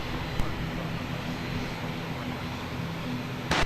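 A fixed-wing airliner rolls for takeoff on runway 20 at Lisbon Airport, a steady broad engine roar at moderate distance holding level throughout, with a brief louder burst near the end.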